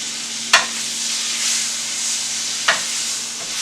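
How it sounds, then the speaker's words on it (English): Butter melting in a cast iron pan kept over low, even heat, giving a steady bright sizzle throughout, with two brief sharper clicks of a utensil near the start and end. "we're going to let that butter melt in the pan"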